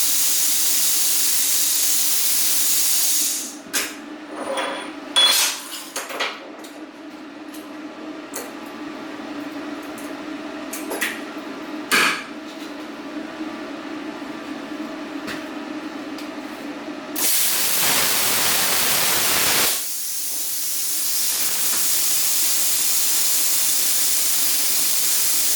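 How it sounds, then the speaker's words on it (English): A BestArc BTC500DP plasma cutter works on aluminum, with a steady airy hiss and scattered crackles, then a loud roaring blast for about three seconds before the hiss returns. "And now we're going to try it on aluminum."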